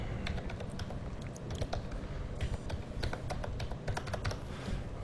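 Fast, steady typing on a computer keyboard, dense clicking keystrokes close up and fairly quiet, with no voices.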